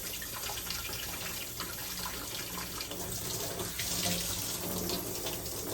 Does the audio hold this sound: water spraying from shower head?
yes